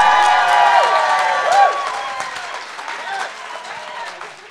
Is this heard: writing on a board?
no